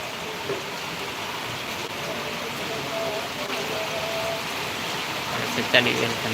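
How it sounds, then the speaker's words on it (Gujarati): Heavy monsoon rain pours steadily and loudly as a dense, continuous wash of noise, holding at an even level through the whole stretch with no other sound rising above it. "જબરદસ્ત વરસાદ ચાલી રહ્યો"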